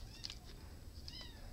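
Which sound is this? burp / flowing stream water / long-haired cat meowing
long-haired cat meowing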